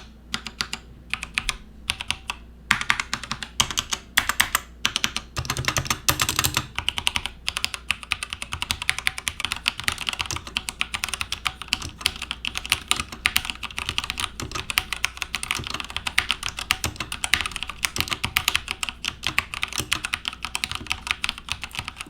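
Typing on an Xtrfy K4 gaming keyboard with Kailh red switches, a fast, steady stream of close key clicks and clacks running continuously after a few scattered presses at the start, with no talking.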